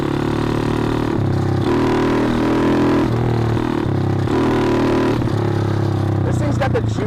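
A 2013 custom SSR 110cc manual pit bike with an FMF pipe revs hard in fourth gear, its engine note loud and close, climbing and dropping in steady steps as the throttle rolls on and off throughout.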